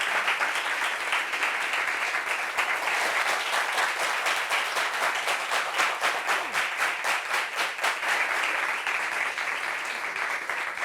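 A TV studio audience claps steadily and loudly for about eleven seconds, a dense, sustained round of applause with no talking over it.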